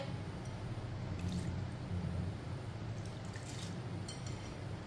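Masoor lentils and rice are swished and rinsed in water in a kitchen, giving soft, faint squishing and dripping liquid sounds that continue quietly throughout.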